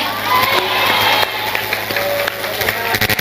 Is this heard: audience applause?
yes